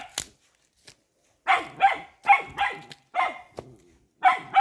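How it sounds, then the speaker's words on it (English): A mischievous dog outdoors near a river walk in Jamaica barks in a close, loud series of roughly six sharp barks in irregular bursts, with brief quiet gaps between and no talking. "Look how this dog is mischievous."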